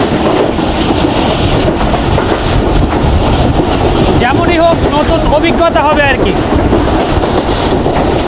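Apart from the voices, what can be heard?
moving train clickety-clack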